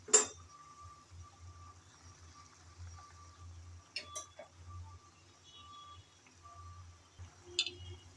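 A lid set on a pot of hog plum chutney gives a few light metallic clinks near the start and again around the middle and end, faint and close, over a low background hum.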